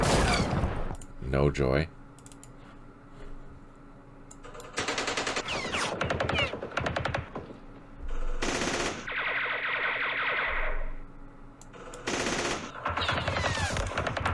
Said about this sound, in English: Let's do some firing at these heavy weapons.